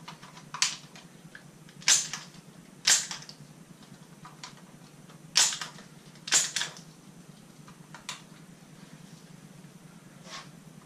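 Sharp metallic clacks ring out as shotgun cartridges are pushed one by one into the magazine, about half a dozen close, distinct snaps at an uneven rhythm with quiet handling between them.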